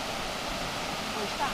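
The Esmeralda waterfall in Carrancas, Brazil, roars as a steady, even rush of falling water under an overcast sky, with no break in the noise.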